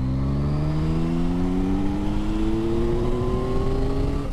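A Yamaha XSR 900 motorcycle engine pulling steadily under load in fourth gear from 2,000 revs, its pitch climbing smoothly and continuously as it accelerates, loud and close with no gear change.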